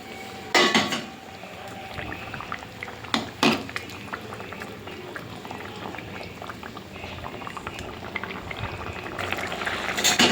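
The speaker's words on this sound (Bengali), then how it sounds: "ঝোলটা ফুটে উঠেছে, এবারে মাছগুলো দিয়ে দেবো।" A pan of fish curry gravy bubbles steadily at a rolling boil, with a few clattering knocks of utensil against pot early on and near the end, no talking.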